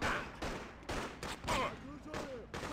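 Magnum pistol shots in the Freedom Fighters video game, a series of sharp, evenly spaced bangs roughly every half second, moderately loud, with someone talking between and over them.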